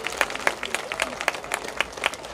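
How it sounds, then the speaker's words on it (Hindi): Scattered clapping from a small crowd at a Ramleela event after a Ramayana performance, individual claps standing out sharply in an uneven rhythm, moderately faint with some background voices. "तो इनके लिए एक बार फिर से जोरदार तालियां हो जाए"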